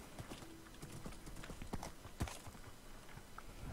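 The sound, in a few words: horse hooves in a video game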